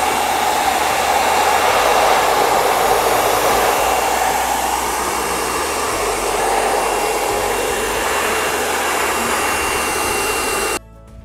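A hair dryer on its cold setting blows steadily on a painting to dry it, giving a loud, even, close whoosh that runs unbroken until it cuts off at the end.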